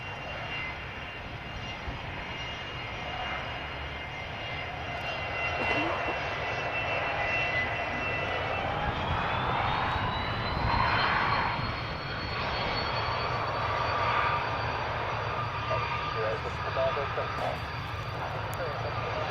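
Light aircraft engine taxiing at Edinburgh airfield during a French rugby fly-in, a steady droning hum with a rising whine partway through, continuous and fairly near, with radio-style voices talking over it.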